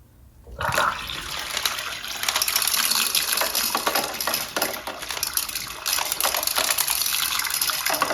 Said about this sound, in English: a couple of bucket flushes will clear that out